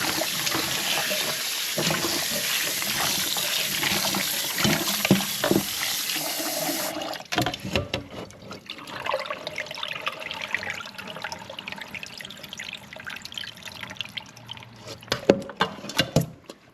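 Running tap water rushing for several seconds, then sloshing and splashing as peeled pumpkin pieces are washed in a basin.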